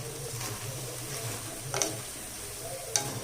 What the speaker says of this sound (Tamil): இப்போ இந்த காயெல்லாம் வதக்கி விடலாம்